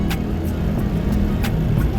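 Road traffic during a night motorcycle ride from Manila to Bicol, a steady dense rumble of passing vehicles with a few brief swishes, continuous and fairly loud, with no voices.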